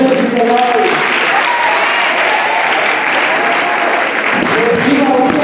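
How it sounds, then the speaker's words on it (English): Loud, sustained applause from a large congregation fills an Anglican church, steady and enthusiastic with voices faintly under the clapping. "Let's give God a hand of applause."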